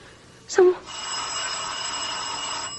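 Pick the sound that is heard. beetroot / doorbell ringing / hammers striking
doorbell ringing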